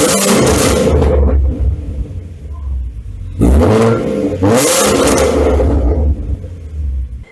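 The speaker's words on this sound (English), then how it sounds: "This has a Borla exhaust" A 2013 Ford Mustang V6 with a Borla exhaust revs loudly up close, the engine climbing twice to a sharp roar and falling back to a deep burbling idle between revs.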